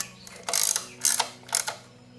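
Three short, close ratcheting bursts from a wrench tightening valve cover bolts on a Toyota or Lexus engine during a valve cover gasket replacement, each a rapid clicking run with brief pauses between.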